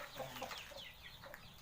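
Soft, close clucking from a breeding gamecock kept at a rural home in Myanmar, a few quick calls in a brief, quiet burst.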